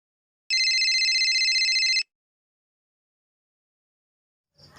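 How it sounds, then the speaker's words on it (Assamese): A mobile phone plays a single bright, clear ringtone burst for an incoming call. It sounds close and loud, then falls silent, and a faint rustle follows at the end. "ঋতুৰাজে ফোন কৰিছে দেখোন"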